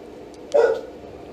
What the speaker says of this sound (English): I don't know what my dog's barking at.